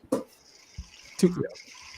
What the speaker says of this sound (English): Bro, that sounds like a cup of water or something.